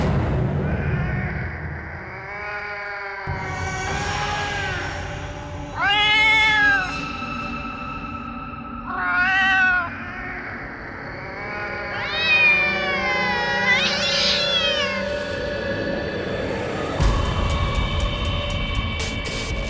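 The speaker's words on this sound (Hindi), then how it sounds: "ये तो वही बिल्ली की आवाज है" A cat meows several times in a horror drama, with drawn-out, wailing cries that rise and fall between quieter pauses, fairly close and clear over a low background rumble.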